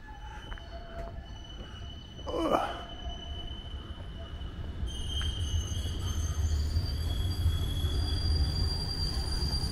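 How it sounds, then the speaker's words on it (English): A tram runs on rails through a city street near a church in Sofia, Bulgaria, a low rolling rumble that swells toward the end, with a brief wheel squeal and faint street noise around it. "I wonder how often the trams run."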